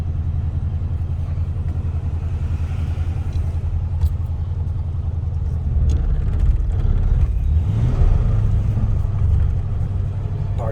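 A 1937 LaSalle Series 50 coupe idles with a low steady rumble, then the clutch chatters as it pulls away from a curb, the engine note swelling and shuddering briefly before settling.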